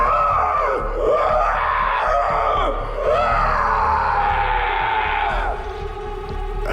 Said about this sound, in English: Agonized screams no longer alarm me.